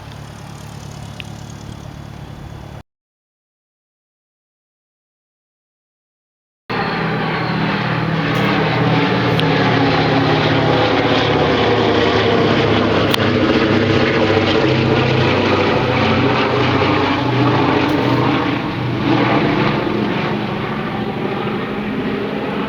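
A Boeing B-17 bomber passes overhead with a loud, steady, droning roar of piston engines and propellers. The sound cuts out briefly near the start, then holds strong and continuous to the end.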